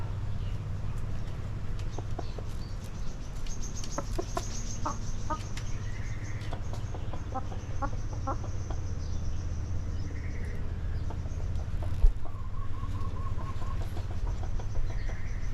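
A hen clucks softly in a nest box as she readies to lay an egg while a rooster stands guard nearby, with scattered short clucks and calls over a steady low hum and faint insect or outdoor noise.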